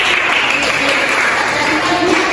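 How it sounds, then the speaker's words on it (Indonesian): A classroom of students bursts into brief, loud applause, a dense burst of clapping filling the room without pause. "Oke, kita tepuk tangan."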